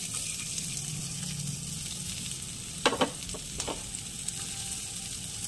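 Onions frying in oil in a wok, a quiet, even sizzle close by, with a couple of brief clicks and taps of a utensil midway and no speech.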